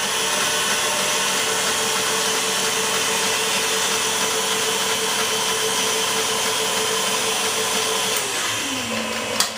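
An electric mixer whirs steadily as it beats eggs into chocolate chip cheesecake pound cake batter. The drone is loud and continuous and drops in pitch near the end, with no talking.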